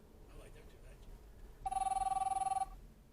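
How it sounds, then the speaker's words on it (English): A phone rings inside a moving car, a rapid warbling ring lasting about a second over low road rumble, with a voice talking softly before it. "You'll hear me in a minute waffle on and the phone go, the passenger trying to contact me"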